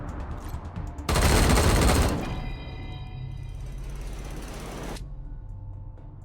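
Sniper rifle fire in the video game Wasteland 3 erupts as one loud, roughly one-second blast, followed by a softer ringing tail and steady background game sound.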